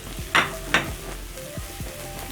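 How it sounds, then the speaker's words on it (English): Crushed garlic with onions sizzles in a pan, with two sharp stirring scrapes near the start and a steady frying hiss beneath, followed by a few softer knocks. "Then I'll stir and cook the garlic until fragrant"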